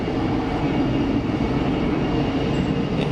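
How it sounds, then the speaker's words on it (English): EasyJet airliner departing Geneva Airport, a steady broadband engine rumble heard at a moderate distance, holding fairly even for a few seconds with no voices. "I will watch this EasyJet depart"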